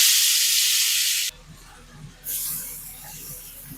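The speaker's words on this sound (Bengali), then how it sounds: "তেল গরম হয়ে গেছে, মাছটা দিয়ে দেবো" Bata fish rubbed with salt and turmeric sizzles in hot oil, a loud, bright hiss that cuts off abruptly, then a second burst of frying noise starts and settles to a steadier sizzle.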